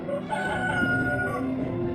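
A rooster crows loudly and close by in one sustained call lasting about two seconds, with no talk over it.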